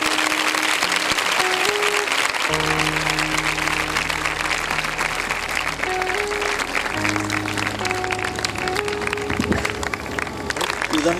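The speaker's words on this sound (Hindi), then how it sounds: "जोरदार तालियों में" A church audience at a children's chapel service gives loud, sustained applause that fills the whole stretch while steady musical tones play beneath it.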